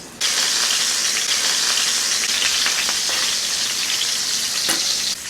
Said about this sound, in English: We're gonna brown our steaks for about 3 to 4 minutes on each side.